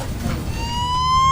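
A police car siren rises in a steady, climbing wail over low road rumble, growing louder and closer toward the end.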